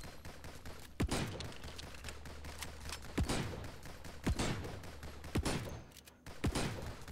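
A gun fires at a slow, steady rate in the video game Nimrods: GunCraft Survivors, about eight sharp, separate shots spaced roughly a second apart over a dense, busy game soundscape.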